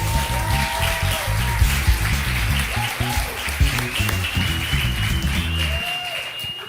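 Applause from a church congregation for a speaker, a sustained steady wash of clapping that runs loud throughout with musical tones underneath.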